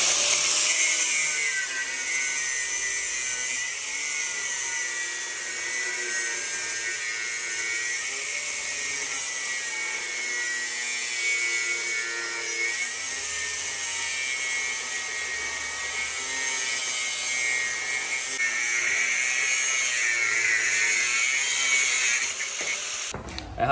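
Steady, harsh high-pitched grinding of a power tool cutting steel plate for a lowered VW Gol G3 axle stub, continuous and loud for the whole stretch with no talking.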